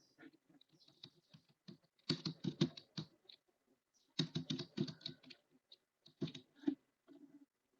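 Bursts of quick keystrokes on a computer keyboard as a name is typed into an online form, clustered in several rapid runs with short pauses between them, close and fairly quiet with no talking.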